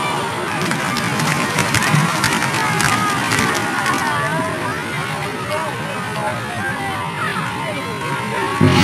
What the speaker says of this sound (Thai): ผู้ชมปรบมือให้กับทั้งสองทีม